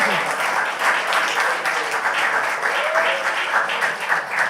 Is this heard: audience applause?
yes